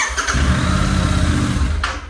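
A Royal Enfield GT650 motorcycle engine cranks briefly and fires into a loud, throbbing idle, recorded close by with a short extra burst near the end.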